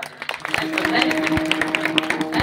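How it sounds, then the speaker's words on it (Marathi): Audience at a devotional gathering in Bibi, Pusad applauds the parents of a devotee, a steady patter of clapping from many hands with a sustained tone and some voices underneath. "त्यांच्यासाठी एका टाळ्या"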